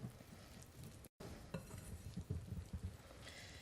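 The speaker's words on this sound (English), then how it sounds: "I always whisk from the center and bring the sides in." Batter for financiers made with egg whites and vanilla gets whisked in a bowl, quiet rapid rhythmic tapping and swishing strokes, with a brief dropout early on.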